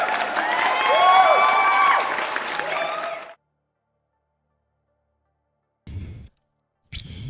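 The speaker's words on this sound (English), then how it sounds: "Give yourselves a round of applause" Loud audience applause and cheering at a live show for about three seconds, then abrupt silence broken by two short bursts of sound.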